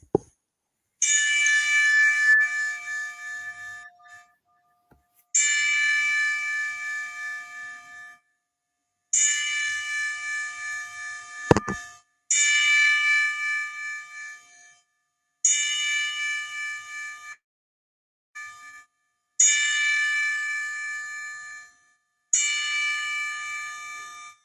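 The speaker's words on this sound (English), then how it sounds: "let's do this 10 bell salute" A ten bell salute for a memorial tribute on a sports show: a bright ringing bell struck in separate rounds, each strike ringing out and decaying before the next, clear and prominent with no talking.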